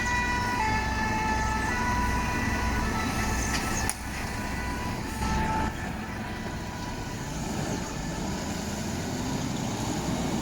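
A fire engine from a Martinique fire station leaves on an emergency call to a town centre, its siren wailing through heavy vehicle rumble and road noise that stay loud and continuous.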